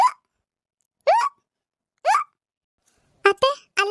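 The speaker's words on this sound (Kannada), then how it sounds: "ನೀರು ಕುಡೀರಿ ಬೇಗ, ಬಿಕ್ಕಳಿಕೆ ಕಡಿಮೆ ಆಗ್ತೈತೆ." Repeated hiccups from an older woman in a village home, a sharp voiced gulp about once a second, with a quick cluster of three near the end, close and fairly loud.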